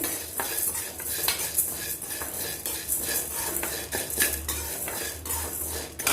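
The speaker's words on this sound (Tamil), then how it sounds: "மிளகு சீரகம் புளி இந்த வத்தல் இவ்வளோத்தையுமே நம்ம கொஞ்சம் சூடு பண்ணிக்கிடுவோம்" A spatula stirs and scrapes through pepper, cumin, tamarind and dried chillies dry-roasting in a pan with no oil, giving continuous close clinks and rattles of metal on metal.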